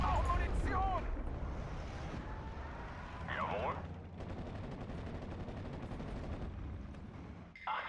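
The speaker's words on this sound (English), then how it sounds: "This Vickers HMG." Vickers heavy machine gun in the WWII strategy game Steel Division: Normandy 44, a quiet rapid rattle of bursts set in a busy battle soundscape with other distant gunfire and a whistling shell.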